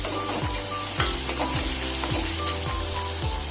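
Ginger garlic paste sizzles in a pan while a beetroot fry is made, a dense steady hiss with faint clinks of stirring, close and continuous, no voices.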